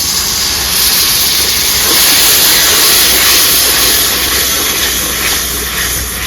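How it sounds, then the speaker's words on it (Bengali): Water poured into a hot pan of spiced tomato masala hisses and sizzles loudly, a steady broad steam-like roar that holds for several seconds without pause. "আমি এবার জল দিয়ে দিচ্ছি।"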